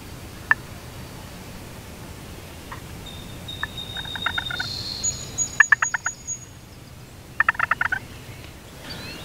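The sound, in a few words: wild turkeys gobbling from the roost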